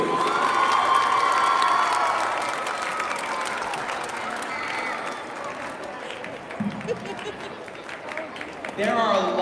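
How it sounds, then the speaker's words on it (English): An audience at a school district arts showcase applauds and cheers for an elementary school, sustained clapping with whoops and children's shouts, while a voice speaks over the start and more voices come in toward the end. "Let's keep that round of applause going for Adams Elementary"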